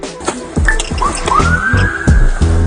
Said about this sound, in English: He chirps his siren, but it's not on consistently.